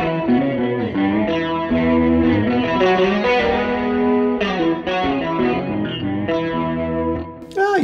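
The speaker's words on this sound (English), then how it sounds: "this is Fender Twin, but it's got a really high octave on it" Valeton GP200 multi-effects unit running a Fender Twin amp model with a high octave effect, a loud, sustained, shimmering electric guitar tone with layered upper harmonics, ringing alone for several seconds.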